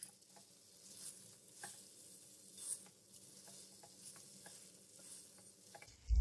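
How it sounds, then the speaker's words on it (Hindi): Fried potatoes being stirred and coated in Manchurian sauce in a pan make a low, steady sizzle broken by soft scraping stir strokes. The sound stays close, with no talking. "अब हमने जो आलू फ्राई करके रखे थे ये ऐड कर देंगे। अब हम इसके अंदर इसको कोट करेंगे।"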